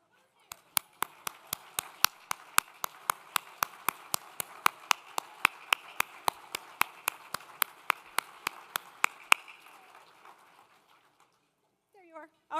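Audience applauding elected officials at the 2025 La Quinta State of the City event: steady, evenly spaced sharp claps for about nine seconds, then they stop and a brief voice follows.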